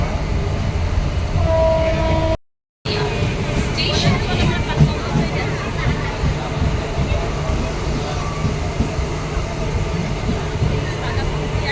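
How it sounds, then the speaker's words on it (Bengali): Inside a Howrah–Katwa local commuter train in West Bengal, a steady low rumble and rattle of the carriage runs throughout, with passenger chatter and babble mixed in and a brief cut near the start. "হাওড়া কাঁদোয়া লোকালে আছে"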